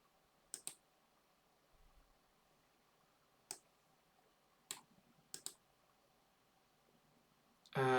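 A few sparse key presses on a computer keyboard, typing a short command into the Windows 11 command prompt, heard as isolated clicks and quick pairs in a quiet room, with a louder burst at the very end.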